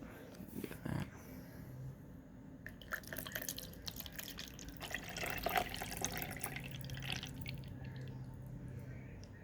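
Water poured from a Fiji bottle into a drink shaker, a steady splashing trickle running for several seconds at close range, with a brief clatter near the start.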